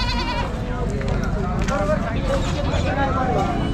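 Goats bleating at a busy goat and poultry market in Shirur, several wavering bleats rising over a murmur of crowd talk and background noise.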